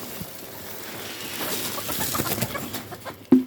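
Backyard chickens in their pen cluck and mutter softly amid rustling and pecking scratches, with a louder squawk near the end.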